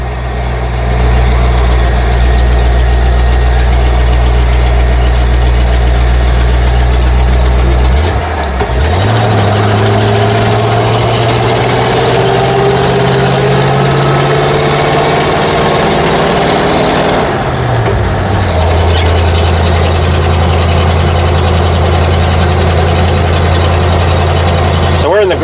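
Car engine droning steadily while driving a mountain road in the Great Smoky Mountains, loud and close throughout, with the pitch dropping and rising as it shifts around 8 and 17 seconds.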